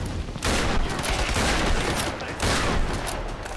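Sustained gunfire in the video game Tomb Raider (2013), a dense, loud volley of overlapping shots that fills the clip with a brief lull near the middle, with no talk over it.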